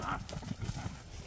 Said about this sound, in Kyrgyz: Жоон ат экен